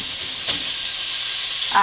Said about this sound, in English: I'm gonna add my chicken here. Nice sizzle.